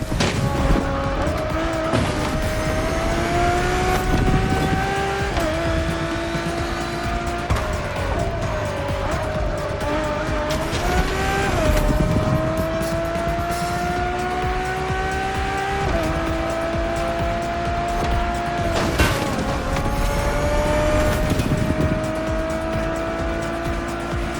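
A road-legal Ferrari hypercar inspired by Formula One is driven hard in the racing game The Crew Motorfest. A loud engine rises in pitch through repeated gear shifts, with tire squeal and skidding and no talk.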